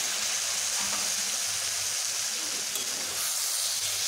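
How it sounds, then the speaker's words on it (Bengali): Bitter gourd fries in a pan with spice paste, giving a steady, close, continuous sizzle and hiss throughout with no voices. "আর একটু ভালোভাবে ভেজে নিচ্ছি"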